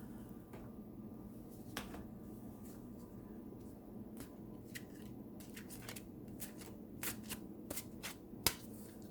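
Soft, quick riffling and light ticking as a deck of oracle cards is shuffled, faint and close over a low steady hum, with a few sharper snaps.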